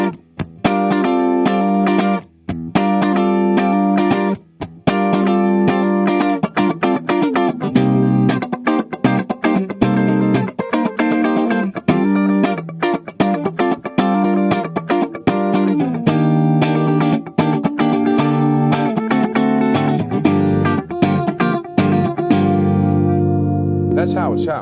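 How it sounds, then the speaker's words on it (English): Clean Blackface-style electric guitar tone from a James Tyler Variax guitar through a Line 6 DT50 amp and POD HD500, strummed chords and ringing notes played steadily and up close, with a few brief pauses. "It's the clean sound. It's like a Blackface, and it sounds like this."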